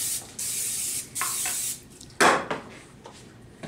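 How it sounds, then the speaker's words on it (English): Cooking spray hissing onto a waffle iron in several short bursts, close and clear, with a light clatter of the can and iron between sprays. "So, one more thing you're gonna need here is some cooking spray."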